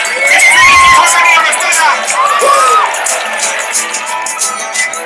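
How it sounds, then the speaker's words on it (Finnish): A loud concert crowd at a rap show cheers and whoops, with excited voices shouting over one another, then the noise gradually settles and thins out. "Otetaan vielä muutamat aplodit kaikille puhujille täällä tänään"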